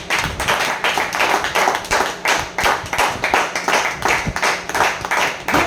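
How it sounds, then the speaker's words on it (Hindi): A seminar audience claps loudly in response to a marketing plan presentation, strong clapping in a pulsing, roughly rhythmic pattern of repeated bursts, close and continuous. "बता दो एक बार जोरदार तालियां"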